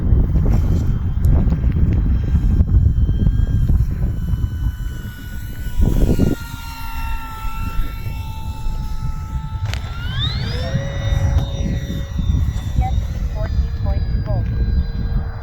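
An E-flite P-47 Thunderbolt electric RC warbird, 1.2 m span on a 4S battery, whines as its motor spools up and it climbs away for takeoff outdoors, the tone rising and shifting under heavy wind buffeting, with someone talking.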